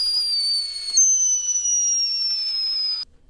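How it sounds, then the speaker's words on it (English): A shrill, steady tea kettle whistle sounds alone, jumping slightly in pitch partway through, then slowly sliding downward before stopping abruptly. "the whistling noise that the tea kettle made"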